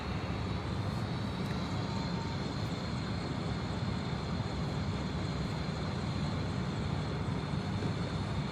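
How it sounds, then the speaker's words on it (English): A helicopter arrives over a motorcycle accident scene on Highway 95, a steady, loud broadband rotor and engine roar that holds throughout without a break, with no talking. "here comes another helicopter right now"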